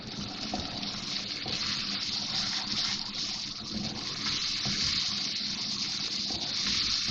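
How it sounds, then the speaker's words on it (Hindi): About two tablespoons of water poured into spices frying in a pan for aloo katlian, giving a loud, steady rushing hiss that runs without a break and with no voices. "थोड़ा सा पानी डाल रही हूँ, 2 टेबल स्पून, ताकि मसाले जले नहीं"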